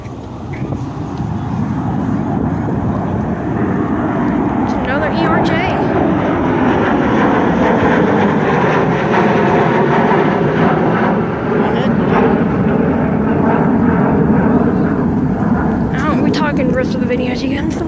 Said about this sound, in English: What plane is this?